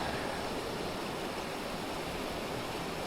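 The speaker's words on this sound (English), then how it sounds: "What a creek, though." Creek water rushes in a steady, broadband flow close by, a constant unbroken hiss of running water with no voices or other sounds.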